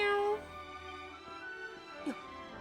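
A cat meows a few times, close by and moderately loud, with a bright tonal cry at the start and another short call near the end over a quiet room.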